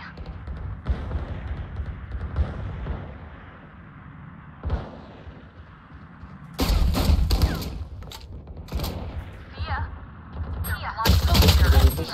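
Gunfire in the video game Valorant comes in several loud bursts and rapid volleys, separated by quieter stretches of game sound, with players talking throughout.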